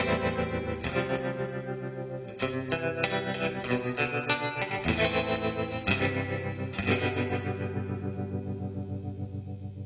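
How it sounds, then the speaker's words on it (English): Clean electric guitar chords pulse through an Electro-Harmonix Holy Stain pedal's tremolo effect, a rhythmic wobble with the volume swelling and dipping steadily as several chords ring out in turn. "Should be a nice clean tremolo"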